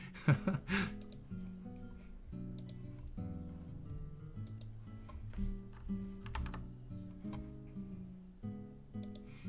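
Quiet computer keyboard typing clicks along in uneven bursts, with soft tonal background music sitting beneath the keystrokes.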